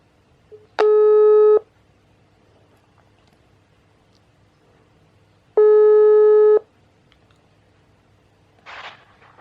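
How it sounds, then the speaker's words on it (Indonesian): Telephone ringback tone on an outgoing call: two loud, steady electronic tones about a second long, separated by a pause of several seconds, with a brief noise at the end. "Kali ini gue mau telepon temen gue."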